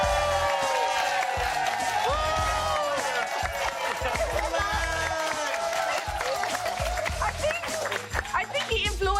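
An audience claps, cheers and whoops loudly and continuously in a busy, echoing room, with excited voices and shouts mixed through the noise.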